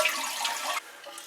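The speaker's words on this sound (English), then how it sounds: "then you're going to flush the tank" Toilet tank flushing after the water supply is shut off, a steady broadband rush of water that drops abruptly partway through to a quieter trickle and gurgle as the tank empties.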